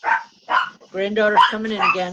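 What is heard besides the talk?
dogs barking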